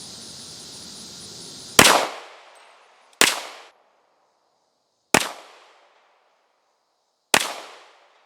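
Four sharp, loud pistol shots from an XDM handgun crack out one by one at a range, about a second or two apart, each ringing off into silence.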